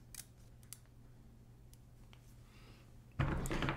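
Scissors snipping adhesive tape for a cassette tape splice: a few faint, quick clicks early on, then a louder burst of crisp rustling and cutting noise near the end, close up and without talk.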